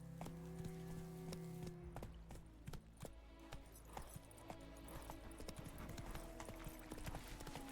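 Horse hooves gallop in The Witcher 3 Wild Hunt, a fast, steady clip-clop that runs close and clear throughout over a bed of game music and ambience.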